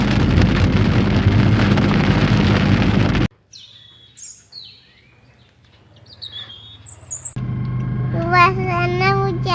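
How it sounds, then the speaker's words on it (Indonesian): Rain falls in Aceh Besar with a dense, steady hiss for the first few seconds, then cuts to a quieter stretch of faint chirps before a loud hiss returns with bird-like calls on top. "Suasana hujan guys"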